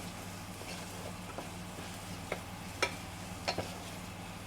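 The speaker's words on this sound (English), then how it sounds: "Let's check how these onions are sweating." Onions sweating in a pan for Greek moussaka, a quiet low sizzle with a steady hum underneath and a few soft stirring clicks and taps scattered through.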